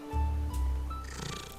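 A creature in the video game Niche purrs in a steady, low rumbling drone for a moment, close and continuous, with faint game tones and no talk.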